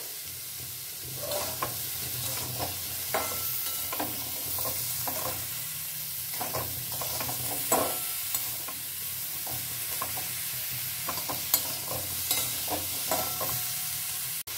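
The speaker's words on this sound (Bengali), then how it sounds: "সামান্য একটু নাড়াচাড়া করে নেব।" Sabzi daal being stirred and fried in a pan, a soft continuous sizzle with scraping spoon strokes scattered throughout, fairly quiet and close.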